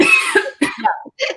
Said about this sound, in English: And then you're going to do very deep belly coughing